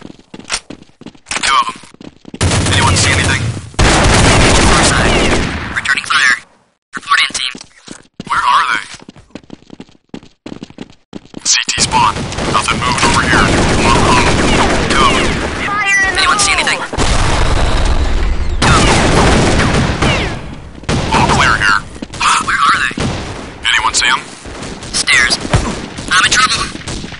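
Gunfire and explosions in the shooter game Counter-Strike Nexon: Zombies during a bot team deathmatch, loud bursts and booms broken by abrupt silent gaps, with voice lines in between.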